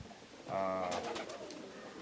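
An Oriental Roller performance pigeon gives a soft, rolling coo that rises briefly and then fades, fairly quiet and close against a hushed background.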